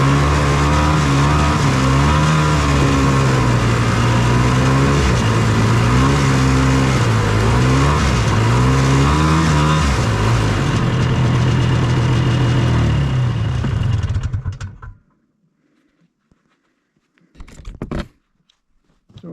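An old Ski-Doo snowmobile engine runs loud and close while hauling firewood in the woods near an off-grid cabin, its pitch rising and falling with throttle changes. It cuts out abruptly, leaving near silence with a brief faint noise toward the end.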